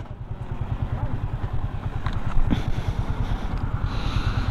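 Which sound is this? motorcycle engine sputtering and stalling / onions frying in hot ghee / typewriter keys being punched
motorcycle engine sputtering and stalling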